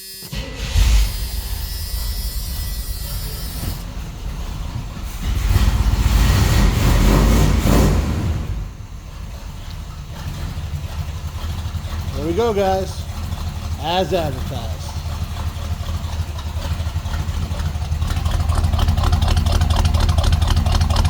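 A car engine idles steadily after a repair that added washers and a lock washer, with a heavier revving burst in the middle and someone talking over parts of it.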